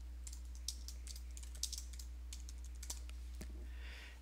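Someone types on a computer keyboard, a quick, uneven run of soft key clicks with a few sharper taps, faint and close against a low steady hum.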